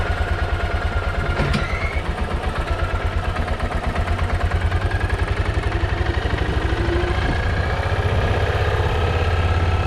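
A Kawasaki Mule 610 utility vehicle engine, with a leaking brake line, runs steadily on a test drive, a close, loud, even rhythmic thrum with no talking over it.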